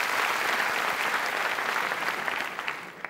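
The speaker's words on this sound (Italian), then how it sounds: "io per l'occasione vorrei un applauso da cosiddetta prima teatrale" A theatre audience claps in a dense, steady burst of applause, heard from the stage for about three seconds and thinning slightly toward the end.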